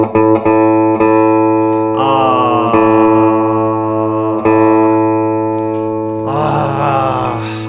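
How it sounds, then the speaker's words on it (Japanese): Bacchus TACTICS24 electric guitar played through a Blackstar Studio 10 6L6 amp on a clean tone, loud sustained chords ringing out one after another with a brighter strummed burst at the end. "まずクリーントーンから、"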